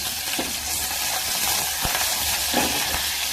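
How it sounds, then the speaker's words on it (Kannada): Mustard seeds, cumin, green chili and curry leaves sizzling in hot oil for a tempering, a loud continuous close crackle and hiss with a few stirring knocks. "ಸ್ವಲ್ಪ ಸಾಸಿವೆ ಮತ್ತು ಜೀರಿಗೆ ಹಾಕ್ಕೊಂಡಿದ್ದೀನಿ ಸ್ವಲ್ಪ"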